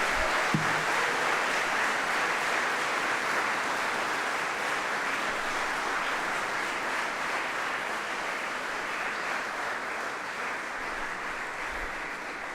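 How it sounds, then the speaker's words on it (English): At a University of Manchester graduation ceremony, a large hall audience claps and cheers in sustained, dense, loud applause that continues evenly throughout, with no talk over it. "Clap and cheer."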